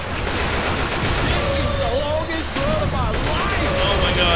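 Loud continuous gunfire and blasts fill the scene in Left 4 Dead 2, a co-op zombie shooter, dense and close, while players talk over the noise.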